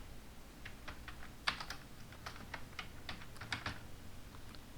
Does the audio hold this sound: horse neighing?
no